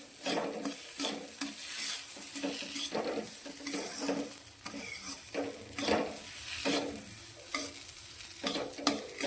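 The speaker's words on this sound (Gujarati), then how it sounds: "ફરી આપણે તેને શેકીશું એકાદ મિનિટ આ રીતે તેને આપણે શેકવાનું છે" A sweet wheat-flour mixture being roasted and stirred in a pan, with a soft frying sizzle under repeated scraping strokes of a spoon, close and steady.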